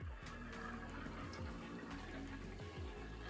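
Water trickles and circulates through a VEKEN double-decker pet drinking fountain, a soft, steady running flow with faint gurgles, close by and quiet.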